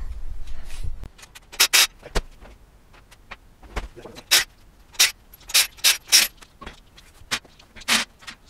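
Rear wheels are removed from a car with ratchet tools during sway bar and coilover work, sounding as a series of sharp, close mechanical bursts of several seconds' buzzing and clicking, with quiet pauses between them.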